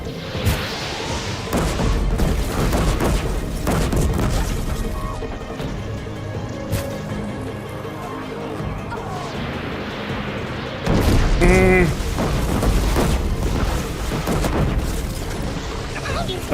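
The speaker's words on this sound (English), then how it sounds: "The sounds of my allies getting hit by the gunfire sound so terribly painful." Gunfire and explosions from the Horizon Zero Dawn video game, a dense, continuous barrage of loud impacts and booms with game music underneath, staying busy throughout.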